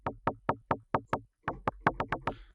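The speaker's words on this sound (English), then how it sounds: "We'll go for this little percussive sound." A short, pitched FM synth percussive blip repeats in a quick rhythmic pattern, dry and close, with a brief pause midway.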